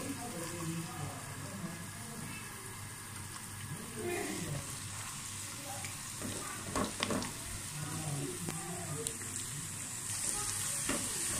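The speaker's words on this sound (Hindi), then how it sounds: "अब हमने इसको लाइट ब्राउन होने तक फ्राई करना है।" Chopped garlic frying in ghee in a wok, a steady close sizzle and crackle running throughout with occasional stirring clatter and brief water-like splashes.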